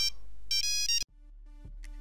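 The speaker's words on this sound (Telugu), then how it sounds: "ఫోన్ వచ్చింది చూడరా" A mobile phone rings in a short film, bright electronic ringtone bursts repeating in a pattern, loud and near, cut off abruptly before a quieter tonal tail.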